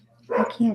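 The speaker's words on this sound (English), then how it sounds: "Whose dog is barking in the background?" A dog barks in the background of a home video call: two short, muffled barks in quick succession, moderately loud, with a voice nearby.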